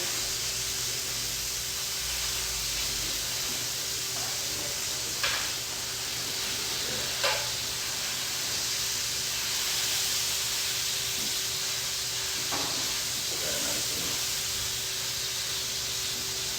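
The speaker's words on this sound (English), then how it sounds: "Get that sear nice and hard there." A wagyu burger patty sears on a hot surface with a steady, close, hissing sizzle, interrupted by a few faint clicks and scrapes.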